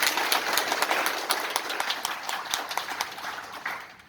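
An audience at a public gathering claps for the council staff, a dense, sustained burst of hand claps at close range that thins slightly toward the end, with no speech over it.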